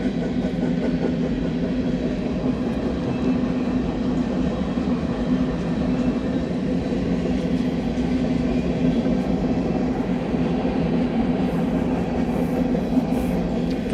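A Union Pacific general manifest freight train rolls steadily past, its grain cars producing a continuous loud rumble and wheel noise that holds without break from start to finish.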